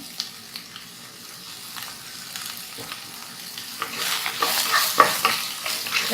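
Egg manchurian stir-fried with onion in a pan over a high flame: a soft sizzle with scraping stirring strokes that grow louder and busier toward the end.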